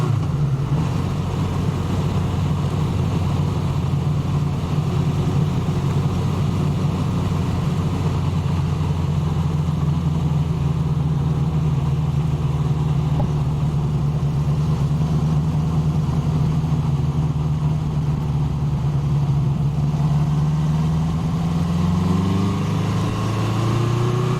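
A 1981 Honda CB750K motorcycle engine drones steadily while cruising on a road, a loud, continuous low hum that holds even for most of the ride and lifts in pitch briefly near the end as the revs rise.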